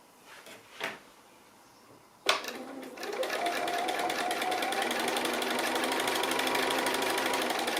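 A sewing machine does free-motion stitching on a quilt; after a couple of handling knocks it starts up and runs in a steady, fast, even stitching chatter, close and moderately loud, with no talking.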